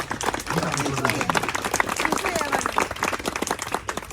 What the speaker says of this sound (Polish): wielkie brawa dla mnie